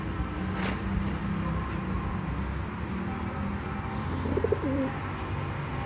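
Low coos from Deobandi crossbred pigeons rise briefly near the end over a steady background of traffic and outdoor noise, soft and fairly close.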